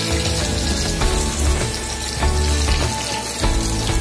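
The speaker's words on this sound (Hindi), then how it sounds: "तेल गरम हो गया है, अब इसमें हम फ्राई करेंगे। इसे मीडियम आंच पे ही फ्राई करेंगे।" KFC-style fried chicken pieces frying in hot oil over medium heat, a steady close bubbling sizzle that swells and dips in waves, with no voices over it.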